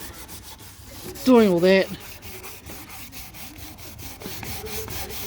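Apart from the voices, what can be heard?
hand sanding a panel with 320 grit sandpaper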